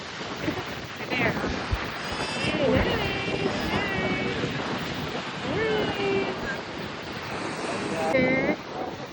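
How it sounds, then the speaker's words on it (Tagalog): Strong wind buffets a beach on Boracay, roaring across the microphone with surf underneath, while people talk and exclaim throughout. "So windy."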